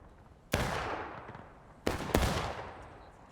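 Bursts of enemy gunfire in the war game Generals at War, with a loud sharp crack followed by a decaying echo, then a second pair of close, rapid shots a moment later.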